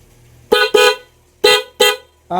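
Horn on a motorcycle, wired with a stock part and the PIA mixed together and sticking at the switch, blares in four short loud honks and starts a fifth, each a bright buzzing tone with brief gaps between.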